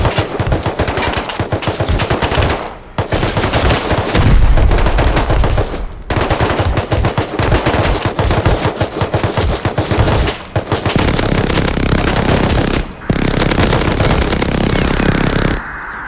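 Sustained rapid gunfire in the video game Rust, heavy machine-gun bursts attacking a Bradley armored vehicle with a few brief pauses, loud and dense throughout, no talking.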